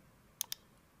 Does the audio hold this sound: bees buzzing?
no